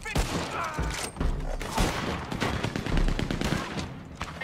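A shotgun in Red Dead Online fires in a rapid string of loud, close blasts, alongside other gunfire.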